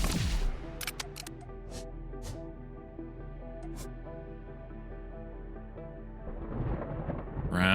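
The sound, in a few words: thunderstorm in the video game Outworld Station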